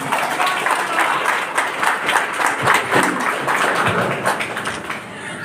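An audience at a railway loco pilots' farewell ceremony in Rampurhat applauds with vigorous, close, continuous clapping that stays strong throughout and eases slightly toward the end.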